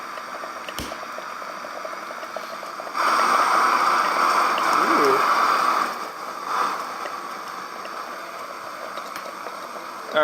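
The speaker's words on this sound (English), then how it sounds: "so we're boiling already in these beans" Beans boil in a pot on a Camp Chef Stryker camp stove, a steady close bubbling hiss that swells louder for a few seconds, with a brief exclamation from a voice.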